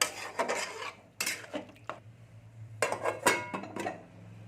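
A lid goes onto a cooking pot of yardlong beans, pumpkin and potato with added water, making a few quiet metallic clanks and scrapes over a low background hum.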